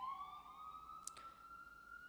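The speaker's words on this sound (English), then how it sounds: "move on right after this ambulance passes" An ambulance siren sweeps past in a steady wail, its pitch sliding slowly downward as the vehicle moves by, loud and close throughout with no talk over it.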